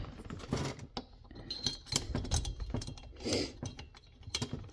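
Bolts being tightened on a Farmertec G660 chainsaw clone kit make irregular close metallic clicks and ratcheting taps, quiet and sparse, with no talking.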